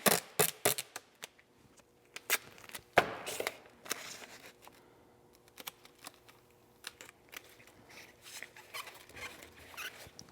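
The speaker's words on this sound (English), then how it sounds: "I'm gonna put some tape on the end of this" Tape being torn and pressed onto the end of a paint can in a workshop: quick crackling rips and taps, busy at first, then sparse rustling handling noises.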